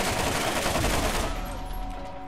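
Rifle gunfire in the video game Borderlands, dense rapid shots forming a loud continuous burst that eases slightly toward the end.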